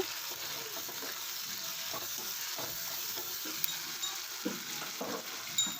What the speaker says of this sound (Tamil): இந்த அளவுக்கு நல்லா வதக்கி விட்டுக்கோங்க